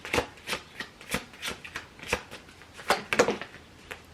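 A tarot deck being shuffled, close and crisp: a rapid run of papery riffles and slaps with short pauses between, the loudest flurry near the end.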